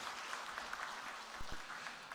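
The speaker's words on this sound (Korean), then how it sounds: "우리 할렐루야 찬양대 격려의 박수 부탁드리겠습니다" A church congregation claps for a choir after a hymn, making a dense, continuous patter of many hands at moderate distance that stays fairly faint throughout.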